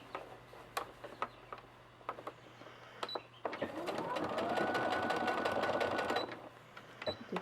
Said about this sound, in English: I'm just going to sew a straight line going down